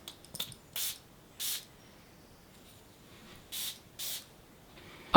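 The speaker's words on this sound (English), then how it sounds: "So let's give this a proper spray." Four short, bright hisses of a perfume bottle spray, evenly spaced in a quiet room, each a crisp burst lasting under half a second, preceded by a few faint clicks of handling the bottle.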